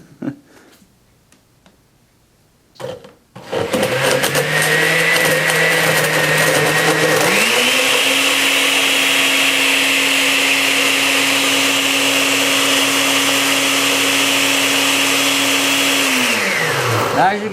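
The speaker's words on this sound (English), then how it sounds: "I'm going to blend this up a little bit" An Osterizer 8-speed blender runs loud and steady for about fourteen seconds, shifting up to a higher pitch partway through and then winding down. It mixes a natural painkiller formula, with a few faint knocks and clicks before it starts.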